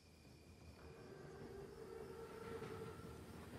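A German armored Panzerzug train in Call of Duty: WWII approaches with a low rumble and a faint whistle-like tone. The sound builds gradually and stays steady, with no voices.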